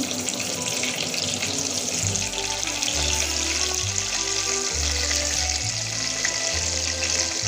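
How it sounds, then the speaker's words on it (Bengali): Eggplant frying in fish oil in a home kitchen pan, a steady broadband sizzle with a low rhythmic droning hum underneath, no talking. "মাছের তেলে বেগুনটা আমি ভেজে নেবো দেখুন বেগুনটা আমি ছেড়ে দিচ্ছি"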